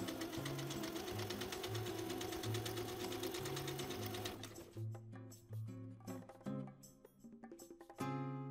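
A sewing machine topstitches the fly facing of a pair of jeans in a rapid steady whir, then slows into short stop-and-start bursts of stitches. The sound is close but quiet.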